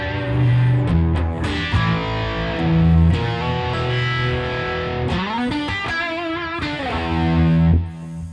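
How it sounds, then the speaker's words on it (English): Electric guitar played through an overdrive distortion effect, a loud, close bluesy run of picked notes, bends and sustained chords with gritty harmonics, lasting several seconds before cutting off. "this is with overdrive or distortion"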